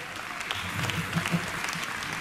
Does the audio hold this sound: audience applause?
yes